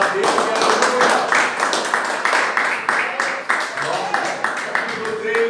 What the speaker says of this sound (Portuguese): Pode se assentar, glorificar o Senhor com palmas.